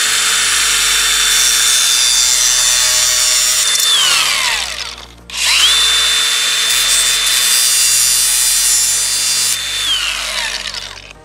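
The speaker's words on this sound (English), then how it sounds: "let's get the grinder out, we're going to cut this up" Angle grinder cutting apart a thermostat housing gasket, a loud close high-pitched whine that dips and spins back up midway before winding down near the end.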